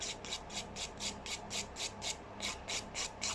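A nail file worked gently over nail extensions near the cuticle, making a close, soft, rhythmic scratching rasp in regular repeated strokes, about three per second, with no talk.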